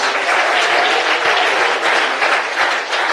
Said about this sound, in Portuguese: E bate palmas.